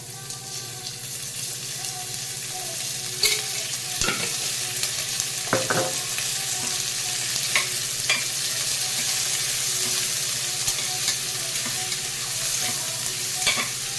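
Two spoons of ghee sizzle steadily in a pan for Andhra-style tomato dal, a close, continuous crackling hiss with a few sharper spatters and stirring clinks along the way.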